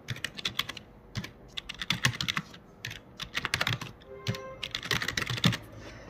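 Irregular bursts of keystrokes on a computer keyboard while typing Bengali text into a table in MS Word, close and fairly quiet, with rapid clusters of taps separated by short pauses and no voice.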